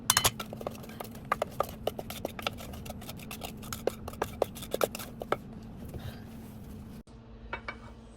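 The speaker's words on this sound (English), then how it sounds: "So this is 2/3 of a cup of brown sugar. Just gonna stir it in." A spoon stirring brown sugar into a squash cake batter in a glass bowl, giving rapid repeated clinks and scrapes, close and fairly quiet, ending in a brief pause and a few last taps.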